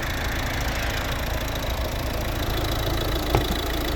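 A 2012 Volvo V50 with the 1.6 D2 diesel engine idles steadily up close, an even clattering diesel rumble with one brief knock near the end.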